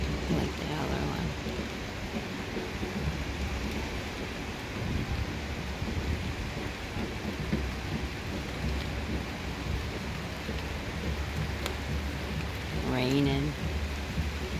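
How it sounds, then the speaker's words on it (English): Steady rain falls outdoors during a Labor Day parade in Massena, New York, a continuous hiss with low rumble throughout, people talking faintly in the background and a brief burst of louder voices near the end. "People gotta march in the rain."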